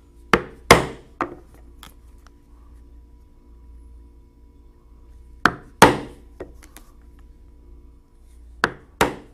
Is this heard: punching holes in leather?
yes